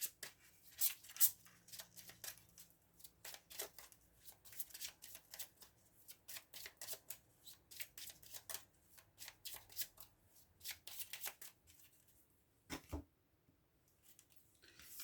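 Lenormand cards being shuffled and cut, a run of close, crisp riffling and flicking bursts that repeat steadily with short pauses, one soft thump near the end, no voices.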